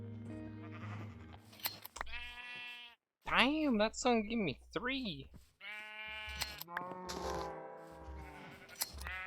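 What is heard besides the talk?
sheep bleating in the video game Minecraft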